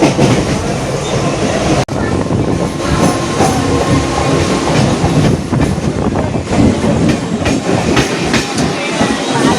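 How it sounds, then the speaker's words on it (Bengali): Passenger train running near Panskura, heard from on board as a loud, continuous rumble and rattle of wagons with rhythmic wheel clatter and a brief sharp knock early on, voices faintly mixed in. "আমাদের ট্রেন এখন পাঁশকুড়া দিকে চলে যাচ্ছে"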